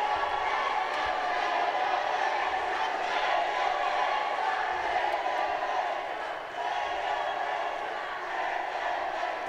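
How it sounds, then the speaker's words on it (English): At a men's 52kg flyweight quarterfinal boxing bout between the Philippines and Indonesia at the 2019 SEA Games, a packed arena crowd roars and chants loudly and continuously for the Indonesian boxer, with a commentator talking over the din. "The Indonesian fanfare. The crowd going crazy."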